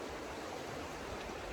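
A river flowing steadily nearby, a soft continuous wash of moving water with no breaks and no voices.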